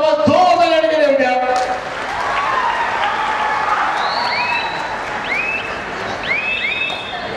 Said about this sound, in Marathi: टाळ्यांचा आवाज जोरदार